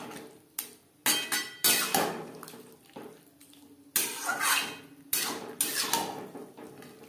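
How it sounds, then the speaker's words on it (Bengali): Cabbage curry stirred in a pan over a high flame, with bursts of loud scraping and clattering spatula strokes separated by short quieter pauses, close and without talk. "হাই ফ্লেমে 3-4 মিনিট নাড়াচাড়া করে দেব।"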